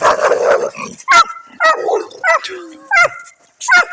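A dog barks outdoors in a snowy winter setting, giving a series of sharp, yipping barks spaced roughly half a second to a second apart, loud and near, with a brief voice at the start.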